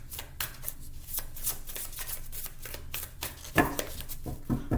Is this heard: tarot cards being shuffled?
yes